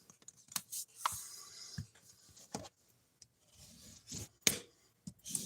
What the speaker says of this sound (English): we're going to fold them back towards us like that